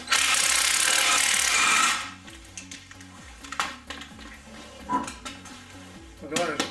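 A wheel coming off a Chevy Cruze during a suspension top-mount job: a loud two-second burst of tool whirring, then scattered ratcheting clicks, metallic clanks and taps close by.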